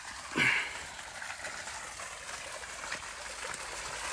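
Water pours steadily from the outlet pipe of a solar-powered one-horsepower pump with a two-inch pipe, filling a sugarcane field; a continuous close trickling rush with a brief louder splash near the start.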